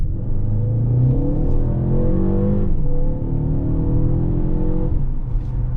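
A 2024 Mercedes GLB 250 SUV of about 221 horsepower accelerates hard at full throttle, its engine droning loud and close and rising in pitch through two gear changes, with no speech.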